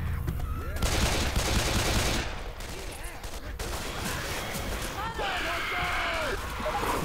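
Dense, continuous gunfire and explosive bursts from the zombie shooter game Left 4 Dead 2 fill the scene, loud and sustained, with players' voices talking over the din.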